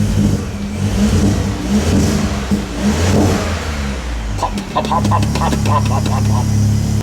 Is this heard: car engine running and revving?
yes